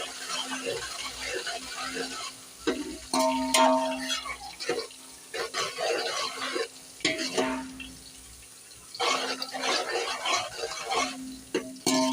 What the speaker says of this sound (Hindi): प्याज ब्राउन कर रही हूँ